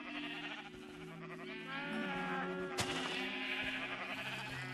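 Sheep in the Minecraft video game bleat several times, overlapping wavering calls over a steady game background, fairly close with no speech.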